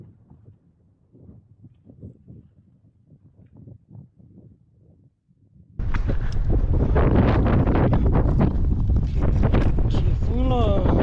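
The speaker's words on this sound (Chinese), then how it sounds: "起风了。" Wind picking up outdoors at a lake viewpoint in Tibet's Ngari region: quiet low rumbles at first, then a sudden loud, continuous roar of gusts buffeting the microphone for the last five seconds.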